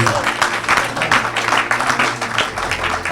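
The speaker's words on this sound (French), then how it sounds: "Est-ce qu'on peut acclamer Jésus?" A church congregation applauds and cheers for Jesus, the clapping dense, loud and close, with voices mixed into the burst.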